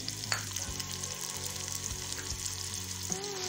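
Tomatoes and spice masala frying in a pan for Kashmiri pulao with black chickpeas, giving a steady close sizzle with occasional stirring scrapes and no voices.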